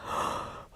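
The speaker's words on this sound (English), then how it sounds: "I yawn when I'm sleepy." One person yawns, a single drawn-out breathy exhalation that swells and then fades in under a second, close and alone.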